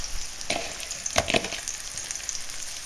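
Salmon fillets cook with garlic in a hot pan, giving a soft, steady sizzle close by, broken by a few sharper crackles and stirring scrapes early on.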